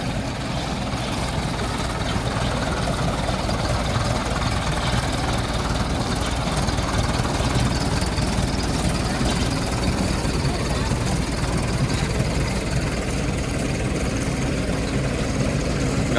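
A tractor engine, a New Holland 5510 turbo or a Mahindra Arjun 555, runs steadily at idle with a continuous low rumble and vibration that stays level throughout, close and fairly loud.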